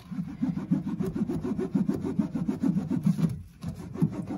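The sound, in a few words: bar of soap rubbed back and forth on plastic ribbed mat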